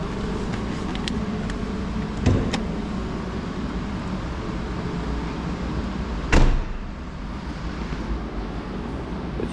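The door of a Mercedes CLA220d AMG Line Premium opening as the driver climbs out, with two distinct close clicks and thunks of the latch and door against a quiet, steady cabin hum.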